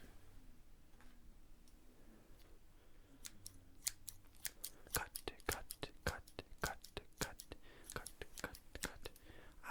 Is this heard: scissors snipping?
yes